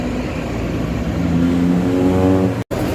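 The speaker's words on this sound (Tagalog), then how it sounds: "Lakas ng makina." A bus engine revs up loudly nearby, its pitch climbing steadily, then cuts out for a split second before resuming.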